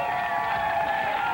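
A restless beach volleyball crowd at the 1997 AVP Riviera Beach final, a steady wash of murmuring and scattered calls from many spectators, moderately loud and continuous throughout.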